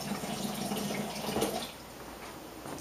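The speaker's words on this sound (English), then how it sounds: "we could spray water on this cookie" Water sprayed onto a homemade coconut-topped Shakeology cookie, a soft continuous misting hiss lasting a couple of seconds and fading slightly toward the end, close to the microphone with no talking.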